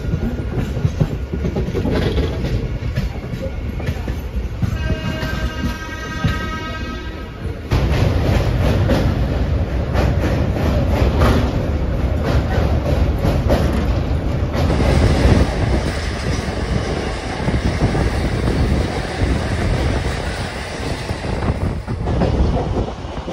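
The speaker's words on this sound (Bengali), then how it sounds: "শিয়ালদা স্টেশন ছেড়ে বেরিয়ে যাচ্ছে এখন ট্রেন" A passenger train pulling out of Sealdah station in Kolkata, with a steady loud rumble of wheels on rails, rhythmic clatter over track joints and a brief high squeal of wheels partway through, continuous throughout.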